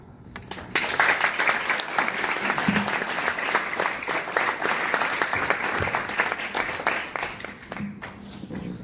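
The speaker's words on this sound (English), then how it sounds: "Help me give Jose another round of applause for sharing his great view." A live audience at a charity talk breaks into sustained applause, a dense wash of many hands clapping that starts abruptly and carries on for several seconds at full strength.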